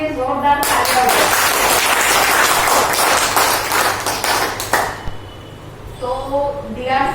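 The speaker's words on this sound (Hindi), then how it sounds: "एक बार अपने लिए जोरदार तालियां हो।" Applause from an audience at a product launch event for a sanitary napkin brand, dense steady clapping for several seconds that fades out, with voices talking over the tail end.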